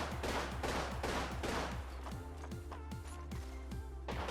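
Rapid rhythmic gunfire bursts from the Wingman pistol in an Apex Legends competitive match, followed by a regular series of quieter repeated mechanical pulses, all loud and close.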